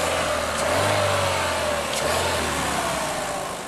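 Engine of a 2011 Chevy Cruze Eco, a 1.4-litre turbocharged four-cylinder, revving and accelerating with a steady rising mid-pitched drone and road noise, fairly loud and continuous with no talk.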